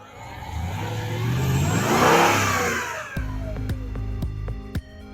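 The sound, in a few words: Mercedes-AMG car engine revving on acceleration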